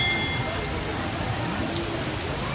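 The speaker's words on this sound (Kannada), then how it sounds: "ಇಲ್ಲಿ ನೋಡ್ರೆ ಫುಲ್ಲು ಜೋರು ಮಳೆ, ಇನ್ನೂ ನಿಂತೇ ಇಲ್ಲ ಅವಾಗಿಂದ." Heavy rain pours at a temple in Dharmasthala, a steady, dense hiss of water striking surfaces that stays loud and even throughout without pause.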